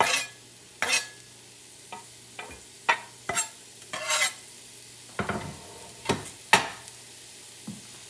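Tomatoes and chili peppers added to a pan with onions for Mexican scrambled eggs, heard as a low sizzle broken by repeated sharp stirring and utensil clinks against the pan.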